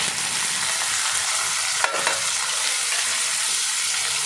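Tomato and potato frying together in a pan with ginger and garlic for a broad bean and potato curry, a steady broadband sizzle with one brief scrape of stirring midway.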